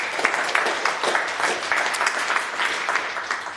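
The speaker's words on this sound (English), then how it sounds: "would you give them a round of applause" An audience at Chatham House in London applauds a panel, steady and dense clapping from a moderately large room, with no voices over it.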